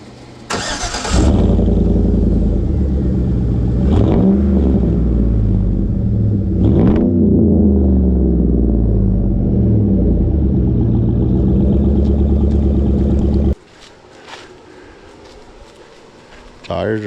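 A Chevy car engine starts and idles loudly with its repaired exhaust, revving a couple of times in a steady deep rumble before shutting off, with people talking over it.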